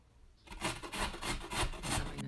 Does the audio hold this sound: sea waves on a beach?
no